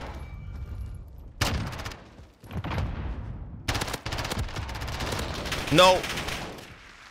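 Rapid bursts of automatic gunfire crackle in a shooter game, loud and close, broken by short pauses and ending in a sweeping effect, with a voice briefly speaking.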